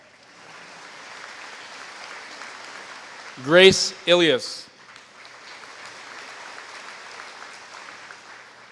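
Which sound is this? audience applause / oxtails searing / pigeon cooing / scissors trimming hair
audience applause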